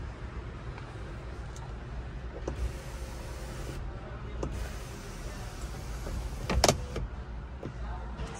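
A car's electric roof hums closed after a button press, a steady, fairly quiet motor drone with a soft clunk near the end, heard at a car show.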